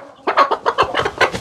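A hen clucks in a rapid, loud, close series of short calls, heard on its own while being set down on a nest of eggs.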